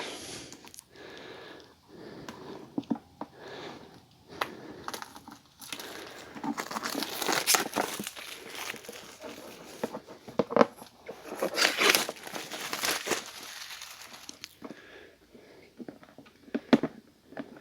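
Cardboard and plastic wrap crinkle and tear as a GMT board game expansion box is opened, with irregular rustles, crackles and handling noises close by over a long stretch and no talk.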